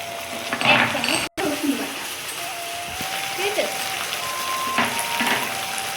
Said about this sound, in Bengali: এদিকে আমার পেঁয়াজটাও ভাজা ভাজা হয়ে গেছে একে একে আমি বাটা মশলাগুলো দিয়ে দেব এবার দেব আমি আদা বাটা